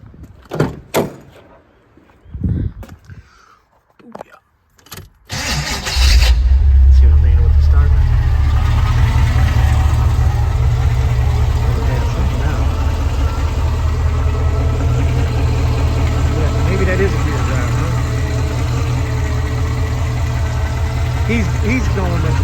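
A car engine fitted with a gear drive cranks and catches after a few door and handling clunks, then settles into a loud, steady idle with a constant mechanical whine riding over the rumble, close to the listener.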